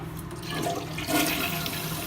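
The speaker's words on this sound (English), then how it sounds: "Once it's filled, go ahead and flush the toilet." A toilet flushes after its fill valve is replaced, a steady rushing, gurgling wash of water that swells slightly midway, heard close and alone without talk.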